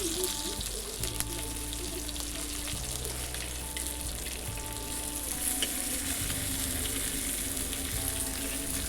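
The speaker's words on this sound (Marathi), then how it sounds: "अगदी कमीत कमी मसाल्यांमध्ये हा बांगडा फ्राय होतो, एकदम झटपट" Bangda mackerel fish coated in semolina frying on a hot tava, a steady close sizzle running throughout, alone with no talk.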